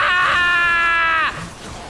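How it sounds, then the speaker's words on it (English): A loud, sustained scream from the League of Legends video game lasts just over a second at full volume, then cuts off sharply into low background game noise. "What was that scream?"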